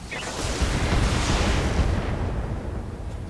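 Weapons fire and explosions in the mech combat video game Battletech make a loud, dense barrage of booming blasts that rumbles continuously.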